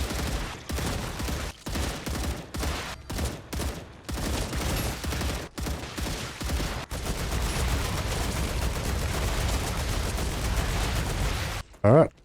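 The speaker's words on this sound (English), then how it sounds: "Alright, machine gun did a good job there." Sustained machine gun fire in the video game StarRupture, rapid loud bursts broken by short gaps and then a long unbroken stream, close, with game sounds and a voice beneath.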